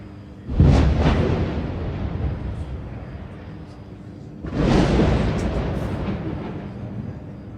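Artillery shells exploding in a war zone, two heavy booms with broad rumbling roar, the first at the start and a second one a few seconds later, each trailing off into a long, loud reverberating rumble.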